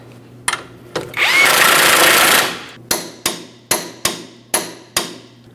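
Lower ball joint mounting nut being tightened on the steering knuckle of a 2015–2025 Ford Transit-250: a sustained burst of an impact tool, then a rapid series of about seven sharp, loud hammering clicks, close by.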